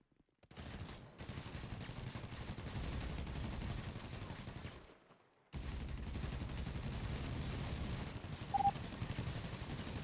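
Bursts of gunfire in a video game, sustained dense shooting across most of the stretch with a brief silent gap before it resumes at similar loudness.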